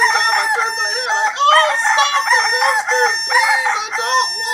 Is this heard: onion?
no